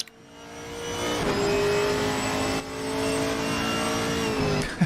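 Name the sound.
Ginetta race cars driving on track in a racing game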